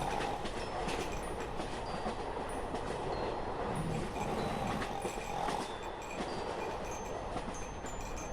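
A train carriage rolling in the video game Express No.6, a continuous rumble with rhythmic clickety-clack of wheels on rails and occasional metallic squeaks, steady and moderately loud throughout.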